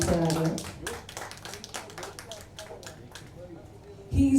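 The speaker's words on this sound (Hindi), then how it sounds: "उनके लिए जोरदार तालियां हो जाए" At a magazine launch event, an audience claps for a guest being called to the stage, a sparse, uneven scattering of hand claps that gradually thins out, followed by a voice at the end.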